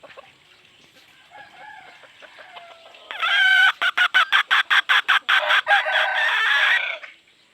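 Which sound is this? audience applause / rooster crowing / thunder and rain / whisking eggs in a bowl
rooster crowing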